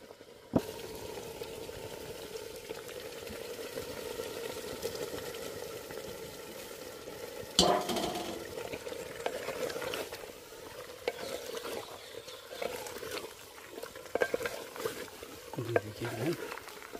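Chicken leg pieces simmer and sizzle in gravy inside a handi pot, a steady bubbling hiss with occasional stirring scrapes and clatters partway through.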